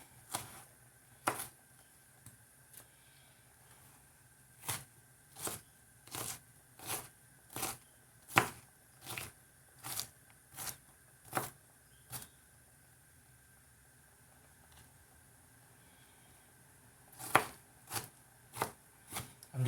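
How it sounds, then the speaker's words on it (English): Rapid knife chops through diced vegetables on a board for lentil soup, a steady run of crisp, close knocks in bursts with a short pause midway, and no voices. "I'm just running my knife through this after it's been diced."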